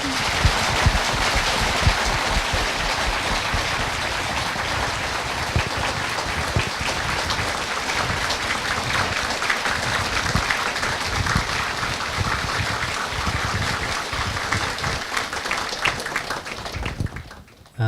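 An audience at a youth Buddhist symposium applauds to welcome a speaker, giving steady, dense clapping close by that holds at an even level for the whole stretch and ends abruptly.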